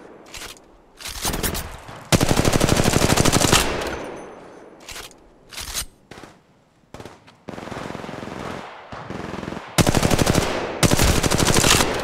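Bursts of automatic gunfire in the battle royale game Apex Legends Mobile, loud rapid volleys of several seconds each broken by short quiet gaps and single shots.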